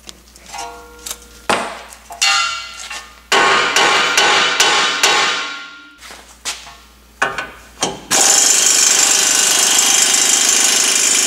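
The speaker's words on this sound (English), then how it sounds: "Just going to give that bolt a little love tap." Hammer blows strike the lower pinch bolt on a Nissan Titan's front suspension during lower ball joint replacement, a series of sharp metallic taps and clanks of varying loudness, close up, followed by a sustained harsh noise.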